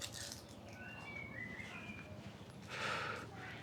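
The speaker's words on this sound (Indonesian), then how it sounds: "Kayak masih banyak burung-burung tuh, dengerin tuh" Faint wild bird chirps and short whistled calls drift in from a distance over a steady low outdoor rumble in a Jakarta village, with a brighter burst of chirping near the end.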